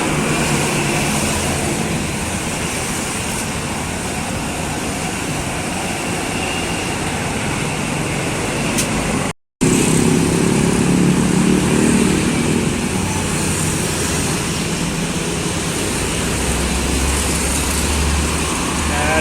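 A Wijaya Putra tour bus passes along a road in a convoy of tour buses, its loud engine and tyre roar filling the scene steadily amid heavy traffic noise, with a brief dropout partway through.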